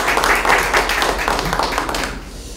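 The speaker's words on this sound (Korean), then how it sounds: "여러분 박수 한번 부탁드리겠습니다" A crowd at a Democratic Party by-election rally in Ulsan breaks into clapping, a busy burst of many hands that swells and then thins out toward the end, with some voices mixed in.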